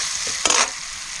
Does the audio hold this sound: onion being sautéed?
yes